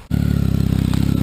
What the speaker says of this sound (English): Stu, start your bike up